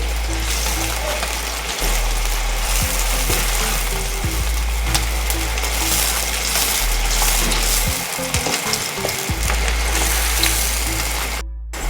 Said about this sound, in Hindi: मीडियम फ्लेम पे हम प्याज को गोल्डन ब्राउन होने तक पकाएंगे।